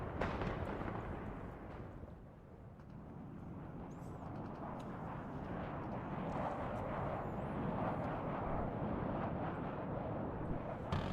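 Artillery and bomb explosions from the WARNO war strategy game form a continuous, dense, low rumbling roar with no distinct separate blasts, steady and fairly loud throughout.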